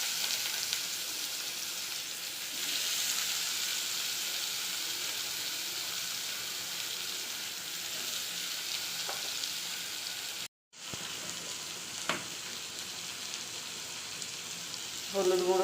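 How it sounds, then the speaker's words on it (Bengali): Ridge gourd and pointed gourd fry in oil with a steady, close sizzling hiss that runs continuously, briefly cutting out before resuming, with a few faint clinks and no talking. "ওই একই তেলের মধ্যে ঝিঙে পটলগুলো ভেজে নেব।"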